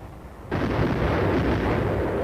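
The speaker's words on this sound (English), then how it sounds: "It'll record the sound of this gun and allow them to figure out the exact direction it's firing from" A single heavy artillery gun blast from 1952 Korean War combat footage erupts suddenly, then a loud, sustained rumbling roar fills the rest of the moment without fading.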